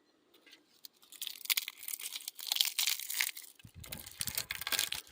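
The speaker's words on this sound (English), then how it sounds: "Look, it's a pine cone. So I'm going to break this up." Close, dry crackling and snapping as a pine cone is broken apart by hand, irregular crunches growing busier and louder toward the end.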